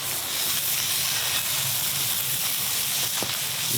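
Butter sizzling and spitting in a hot skillet beside a deer tenderloin steak, a steady close broadband hiss with a few sharper pops, alone without talk.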